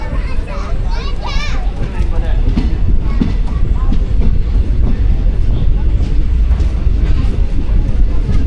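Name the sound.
train passing through Lakkidi station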